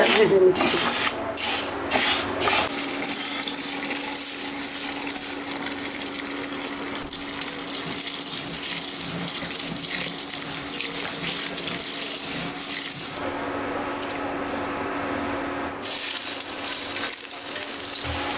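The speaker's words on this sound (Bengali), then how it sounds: "ডাল ভেজে নিচ্ছি গরম মশলা" Mung and masoor dal frying in a pan for khichuri with garam masala, a steady loud sizzle and scraping hiss that runs continuously, with brief stirring scrapes near the start and no talk.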